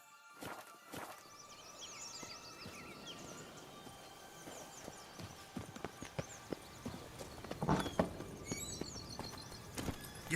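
Horse hooves clip-clopping in The Witcher 3, a brisk irregular stream of hoof thuds over ambient outdoor sound with occasional chirps and a loud snort or shuffle midway.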